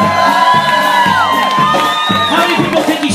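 A crowd at a polka concert cheers loudly, with whoops and high shouts rising over a pulsing rhythmic backing throughout the few seconds.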